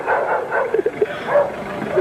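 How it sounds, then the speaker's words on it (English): Dog barking on an old, recorded-over VHS tape, a few quick muffled yips and barks in the background through a dull, noisy tape hiss. "It's always the dog barking in the background, bro."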